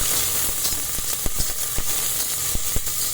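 Cumin and mustard seeds crackle in hot oil for barley upma. A steady, loud, close hiss runs throughout, broken by sharp popping clicks at irregular intervals.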